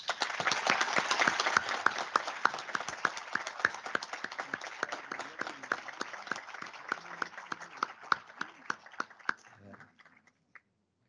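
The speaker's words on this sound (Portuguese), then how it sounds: "peço uma salva de palmas" Round of applause at a swearing-in ceremony for appellate judges, a dense crowd clapping loudly at first, then gradually thinning into scattered individual claps before fading out.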